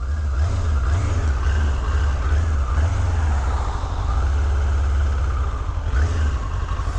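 2005 Suzuki GSX750 Katana motorcycle with 10,200 miles, its engine running steadily nearby with a low throbbing idle that swells briefly in a few pulses, heard alone without talk.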